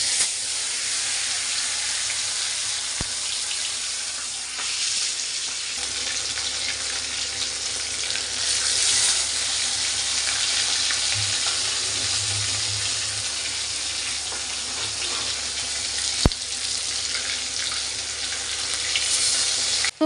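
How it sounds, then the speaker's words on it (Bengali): Pomfret fish fry in oil in a hot wok, giving a continuous, even hiss and sizzle with a steady crackle that holds at a constant level throughout. "এবার আমি মাছগুলোকে ভেজে নেব"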